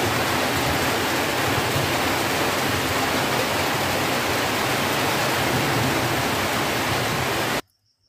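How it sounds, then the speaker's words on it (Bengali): Heavy rain pours steadily outside in a dense, loud, unbroken hiss that holds for several seconds and then cuts off abruptly, with no voices. "বাইরে হচ্ছে প্রচুর বৃষ্টি"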